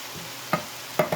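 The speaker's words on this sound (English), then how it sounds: "Next we have to put some diced tomato." Canned diced tomatoes go into a pot of cooking chili: a low simmering sizzle is broken by a few short, wet splatting and stirring bursts near the end, with no talking.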